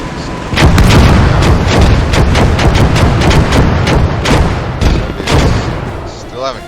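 Rocket artillery firing in the World War II strategy game Gates of Hell: a loud, rapid salvo of sharp launches and booms over a rumbling battlefield, with faint voices underneath.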